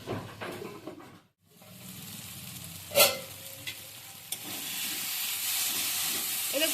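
Masala for a raw banana peel kofta curry cooks over low heat in a pan, with a faint hiss and sizzle, a brief silence, and a sharper burst of spattering before the hiss steadies and grows slightly louder.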